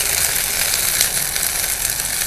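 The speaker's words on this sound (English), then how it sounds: "You can really hear them sizzling now" Vegetable kebabs seasoned with rosemary, garlic, thyme and olive oil sizzle on the heat, a steady bright crackling hiss that runs without a break and with no talking.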